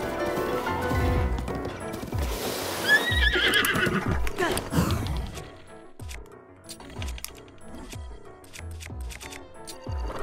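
Zelda: Breath of the Wild horse whinnies loudly up front, followed by a crash and then a run of rhythmic hoofbeats clopping steadily, close and clear with game sounds around.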